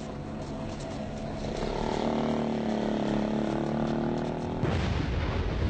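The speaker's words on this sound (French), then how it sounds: "Les obus tombent juste derrière eux." Artillery shells land close behind people fleeing on foot near a front line during the 1975 fighting near Xuan Loc, Vietnam: a continuous roar of rumbling blasts and engine-like noise, loud and dense, with a heavier burst near the end.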